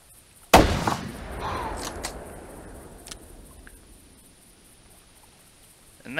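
One loud, close rifle shot from a Blazer hunting rifle fired at a whitetail buck in a swamp in theHunter Classic, followed by a long rolling echo that fades over several seconds, with a couple of faint clicks afterward.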